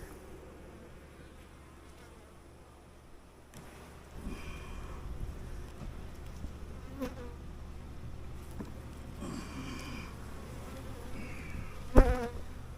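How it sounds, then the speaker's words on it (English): Honeybees hum and buzz around an opened beehive during an inspection, a soft steady drone that swells after a few seconds, with a brief knock or handling sound near the end and no talking. "Just want to see how our queen's doing and if there's any brood in there."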